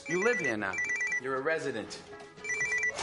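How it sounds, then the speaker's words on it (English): A telephone ringing in a newly moved-into house during a film scene, a repeated electronic ring sounding under loud, overlapping excited voices. "Forget the phone. Get it. Answer it."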